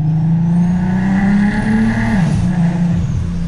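A Golf R32 MK5 biturbo with 650 hp roars past on a race track, loud and close, its engine note holding steady before dropping in pitch as the car goes by.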